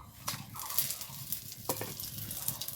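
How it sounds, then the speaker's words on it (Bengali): A bay leaf, dried chillies and whole cumin sizzle in mustard oil with ghee, a soft steady crackle with a few sharper pops, heard alone. "ফোড়নে আমি একটা তেজপাতা, 2টো শুকনো লঙ্কা আর কয়েকটা গোটা জিরা আমি দিয়ে দিচ্ছি।"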